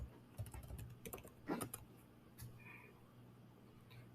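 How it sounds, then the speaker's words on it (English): Keys clack on a computer keyboard while a search is typed into a web browser, a quick irregular run of clicks with a few sharper taps, close up and fairly quiet with no talking. "We'll go to Google, we'll type in Mona Lisa"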